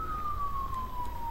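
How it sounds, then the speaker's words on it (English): A police car siren in GTA V wails as a single sustained tone that slowly falls in pitch, fairly close over a steady engine and road rumble. "Let me kill my siren for a second."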